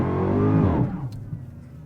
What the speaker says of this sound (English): hold my foot on the brake, pin the throttle,